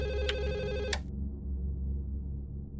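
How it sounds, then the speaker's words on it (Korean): Telephone bell ringing indoors, a loud bright ring lasting about a second before cutting off, leaving a low steady room hum. "전화."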